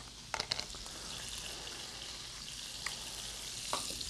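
Frog legs sizzle and fry steadily in a pan, a constant hiss with a few sharp pops and spits near the start and again toward the end, with no talking.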